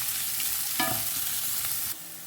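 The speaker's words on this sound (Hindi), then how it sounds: "अब प्याज को ना एक 2-3 मिनट के लिए अच्छे से भून लेते हैं।" Roughly chopped onions fry in a pan with a steady, close sizzle, and a brief stirring scrape comes partway through.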